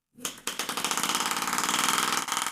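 Small lightweight air motor driven through syringe parts, starting abruptly and then running with a rapid, regular pulsing chug that holds steady before cutting off; close and fairly loud.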